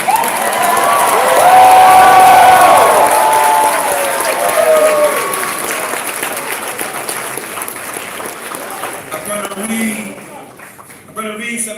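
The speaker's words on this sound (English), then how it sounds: "And we all need to give the loudest round of applause for White Chocolate." Loud applause from a large crowd at the 2018 Young Black Leadership Summit, with cheers and whoops, swelling early and then gradually thinning out as a voice starts to speak over it.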